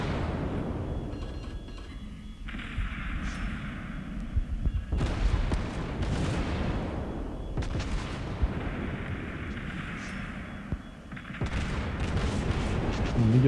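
Heavy battleship guns booming in World of Warships Blitz aboard the Francesco Caracciolo battleship, with loud repeated salvos and rumbling shell blasts layered over constant game noise.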